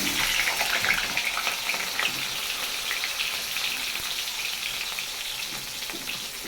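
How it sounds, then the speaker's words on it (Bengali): Small new potatoes hit hot oil in a wok, crackling and sizzling loudly at first, then settling into a steady, slightly softer fry, near and without talk. "তেল গরম হয়ে গেছে, দিয়ে দিচ্ছি আলু।"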